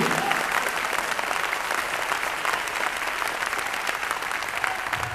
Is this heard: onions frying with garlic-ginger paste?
no